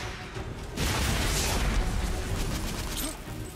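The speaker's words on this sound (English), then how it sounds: "answer an explosion with an explosion" Explosion in The Order: 1886 video game, a loud broadband boom that swells after a brief lead-in and rumbles on for a couple of seconds before easing.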